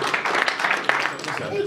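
Applause from the audience at a boxing promotions press conference: a steady wash of hand clapping fills the short moment, with a voice speaking over it.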